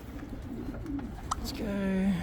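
A racing pigeon arriving back at its loft after a race gives a soft, low cooing call that rises near the end over steady background noise.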